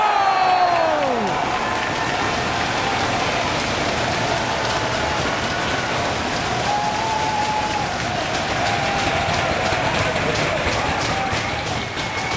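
Standing-room-only wrestling crowd in Providence roars steadily for a wrestler, a loud, continuous wall of cheering and clapping with occasional rising shouts throughout.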